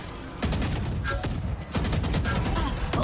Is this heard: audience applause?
no